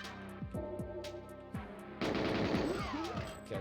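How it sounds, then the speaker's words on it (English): Rapid gunfire from the video game GoldenEye 007, bursts of automatic shots crackling in quick succession with a denser, louder volley in the second half, set against steady game music. "someone's shooting at me, so I guess I better clear up"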